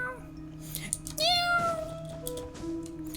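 A voice imitates a cat with a drawn-out, rising-then-falling meow, close and clear, over a steady hum and some faint background chatter from others.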